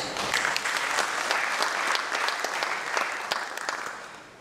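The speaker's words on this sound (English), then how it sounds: "all of you all deserve a big clap for that" An audience at a national nursing seminar claps steadily for the attendees, a sustained, fairly distant wash of many hands with a few sharper individual claps standing out, no voices over it.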